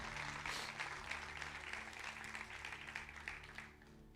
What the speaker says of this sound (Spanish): Si lo cree, denle un fuerte aplauso a Dios por eso.